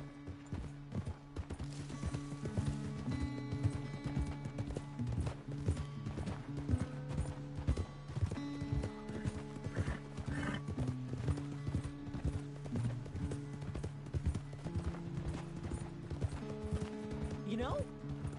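Rapid, rhythmic hoofbeats of a galloping horse in Red Dead Redemption 2 pound continuously, with steady music and occasional voices running underneath.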